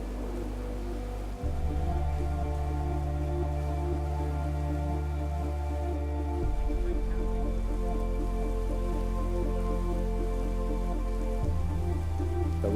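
Artificial rain pours steadily in the Rain Room installation at MoMA, a dense even patter of drops on a hard floor with a low background hum that shifts level a few times.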